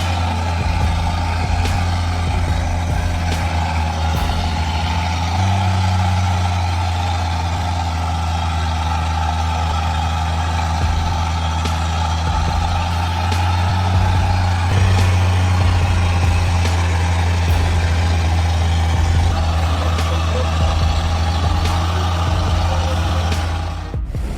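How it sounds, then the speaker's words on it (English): A heavy truck loaded with wood, its deep engine rumble droning loudly and steadily as it rolls past on a muddy road, swelling in the middle with faint rattles and a hiss. "Va a pasar un camión."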